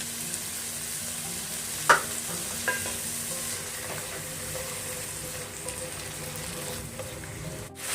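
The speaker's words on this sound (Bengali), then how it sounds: "এখানে আমি 3 টেবিল চামচ পরিমাণ টক দই ফেটিয়ে নিয়ে দিয়ে দিচ্ছি" Whisked sour yogurt goes into frying masala for tandoori chicken pulao and is stirred, with a loud, continuous sizzle close by, one sharp clack of the utensil, and softer scraping as the mixture is worked.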